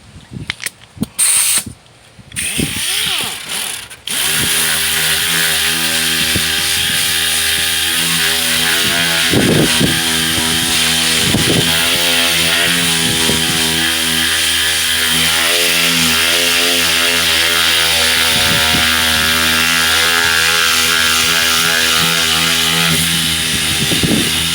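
A dual-action sander fitted with 80-grit sandpaper runs on a car body panel during dent repair, starting after a few brief knocks and then holding a loud, steady whirring drone with faint grinding variations, close up and without talking.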